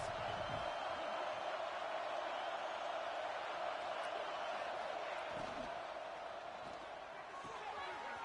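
A football stadium crowd roars behind the defense on a big third down in the red zone of a game involving Oregon. The cheering is dense and sustained throughout, faint and distant, with a commentator's voice over it.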